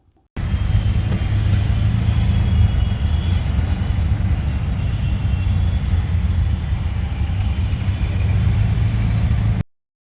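Road traffic heard from a rickshaw riding back through a jammed evening street, a loud steady rumble of engines and road noise, continuous and close with no talk.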